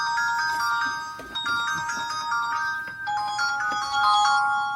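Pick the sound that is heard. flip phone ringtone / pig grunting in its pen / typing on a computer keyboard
flip phone ringtone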